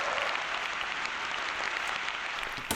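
Steady applause from a crowd at a talk on Gen Z and student loan debt, a dense, even wash of clapping that holds at constant loudness throughout with no talking over it.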